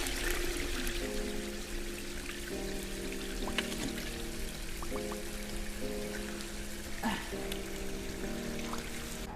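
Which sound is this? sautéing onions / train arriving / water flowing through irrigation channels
water flowing through irrigation channels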